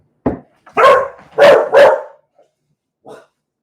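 A dog barks several times close by, three sharp barks in a quick cluster followed by a softer lone woof after a pause.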